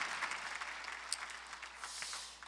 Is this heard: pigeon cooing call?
no